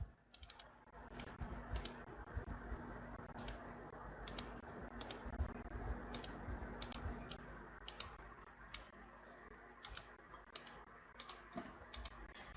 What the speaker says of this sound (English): we right click to kind of move it, and left click to kind of rotate things